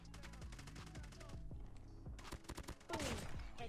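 SMG gunfire in the Call of Duty Mobile video game crackles in rapid bursts, with sharp, closely spaced shots, a short lull and then renewed firing, loud and close.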